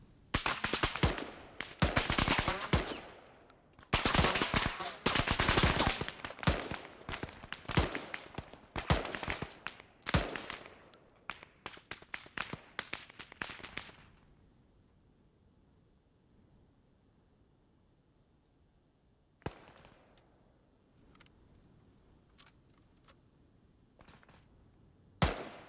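Gunfire crackles during a military field training exercise, dense rapid bursts of shots for the first dozen seconds, then silence broken by a few isolated distant pops near the end.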